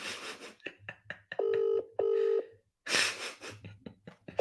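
A phone makes dialing tones as a call is placed during a live football watchalong. Two sustained beeps sound back to back, surrounded by close, breathy puffs of noise.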